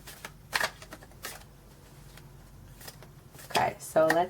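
A tarot card deck is shuffled in a few quick riffling bursts, crisp papery flutters separated by brief pauses, the last two louder and closer.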